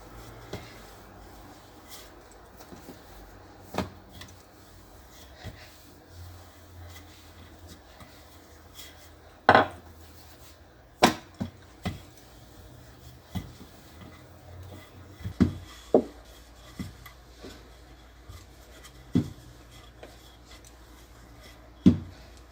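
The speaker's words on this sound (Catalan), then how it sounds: "Cobrirem el corró també amb farina. I anem a estirar-ho." Cinnamon roll dough being rolled into a rectangle with a floured rolling pin: soft, low rubbing and rolling strokes with scattered light knocks and taps of wood on the work surface, close up, no talking.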